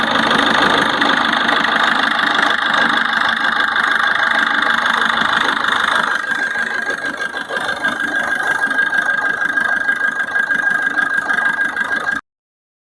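A 2018 Maruti Suzuki Swift diesel, a taxi-plated car, idles steadily with a smooth mid-pitched engine hum and faint knocking rhythm, close and continuous until it cuts off near the end, with no talking.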